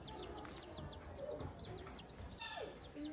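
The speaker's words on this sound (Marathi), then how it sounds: "इथं बघा गाईज मामांचा कोंबड्यांचा फार्म" Chickens cluck and chirp in a chicken farm, a busy mix of repeated short calls and peeps at moderate distance over a low background hum.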